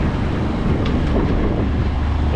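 Wind buffets a sailboat out on the bay in Wisconsin autumn, a steady loud rushing roar with low rumble and no talk.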